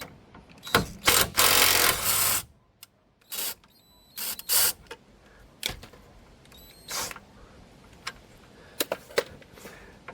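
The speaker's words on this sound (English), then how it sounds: "I'm just going to use the ratchet on this end to get this off." A hand ratchet loosening a lower control arm bolt on a Ford Puma Mk1, heard as bursts of quick clicking and metallic rattling separated by pauses, close and fairly loud.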